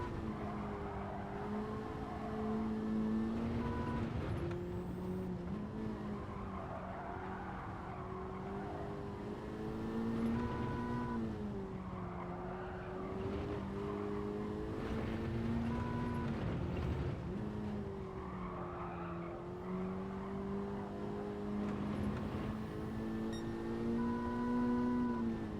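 Racing car engine during a lap in a driving video game, a continuous whining drone that rises and falls with throttle and gear changes, alone and fairly quiet.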